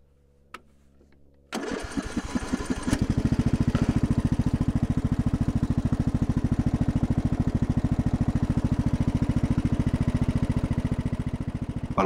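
A warm engine on a homemade wooden tractor starts after a few quiet clicks, then settles into a loud, rapid, steady single-cylinder chug that runs close and continuous to the end.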